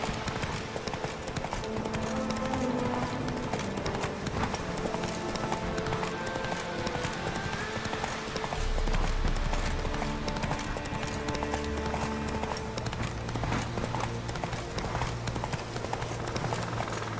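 Roach the horse gallops in The Witcher 3, steady rapid hoofbeats clip-clopping continuously over ground at moderate volume, with low music and ambient sound beneath.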